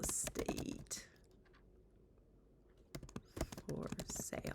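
Fingers tap rapidly on a computer keyboard in two bursts of crisp clicking keystrokes, close by, separated by a quieter pause with faint room background.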